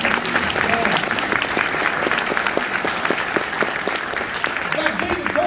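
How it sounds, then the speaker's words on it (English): Audience applause for a commander standing up in a room, a dense steady clapping that fills the whole stretch at fairly close range, with some voices mixed into the crowd noise. "Give him a round of applause."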